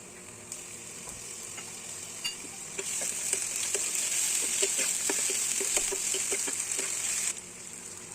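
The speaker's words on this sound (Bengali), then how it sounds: "ওর মধ্যে আদা রসুন আর একটু কাঁচা লঙ্কা বাটা ওটা দিয়ে আবার সেটাকে ভালো করে নাড়াচাড়া করতে লাগবে" Onions frying with ginger, garlic and green chilli paste, stirred in the pan: a bright, loud sizzle swells up partway through, with repeated quick scraping and tapping strokes, no voices.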